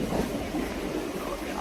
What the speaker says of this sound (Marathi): आलो आपण ट्रेन मध्ये आलो.